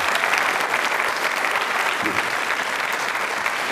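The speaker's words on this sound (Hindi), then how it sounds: "वाह वाह, तालियां तो बजती रहनी चाहिए जब तक मैं मुड़ नहीं जाऊं।" A school audience at a quiz show claps continuously, dense sustained applause filling the room at steady loudness, with faint voices underneath.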